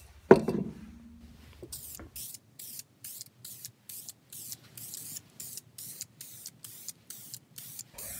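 Short rhythmic bursts from a spray can applying red pearl paint to a primed car spring, about a dozen hisses with brief gaps, preceded by a clunk and handling noises, close and clear.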